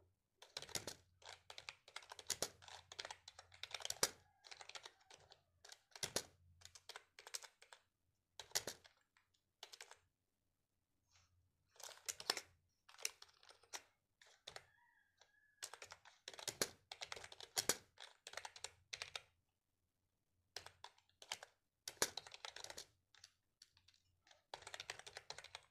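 Typing on a computer keyboard while an address is entered in an online recruitment form, with bursts of quick close clicks separated by short pauses and a few louder single keystrokes.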